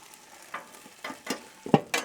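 Potatoes and steak bites on a Blackstone griddle: a quiet sizzle broken by several short scraping and stirring strokes, one sharp spatula clack near the end, close up with no voices.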